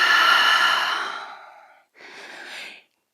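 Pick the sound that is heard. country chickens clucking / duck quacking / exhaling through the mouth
exhaling through the mouth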